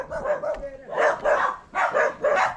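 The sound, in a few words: dog barking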